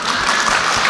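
A loud, dense burst of clapping from a gathered crowd at a business recovery event, a continuous wash of many hands close by for under a second.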